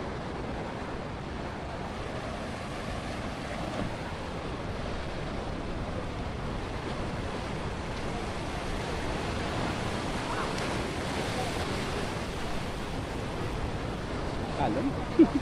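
Steady broadband wash of ocean surf rolling in at Siargao island, a continuous roar with wind across the microphone and people talking faintly beneath.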